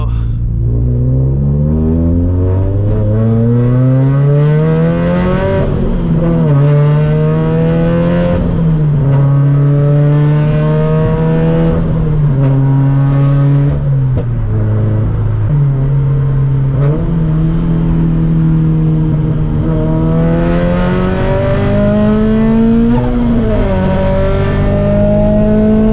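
A 400HP turbocharged Toyota FRS accelerating hard on a highway, its engine note loud and close as it climbs steadily through the revs, with a brief dip at each gear change before pulling again.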